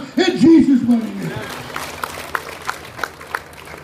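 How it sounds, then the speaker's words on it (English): A church congregation claps along during a preaching service. A voice rings out first, then a scattered burst of handclaps follows, with some crowd murmur beneath it. "Give Him a hand clap in Jesus' name."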